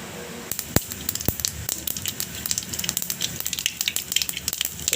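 Mustard seeds sizzling and popping in hot oil in a pan, with a crackling spatter that grows busier and denser over a few seconds after two sharp early pops.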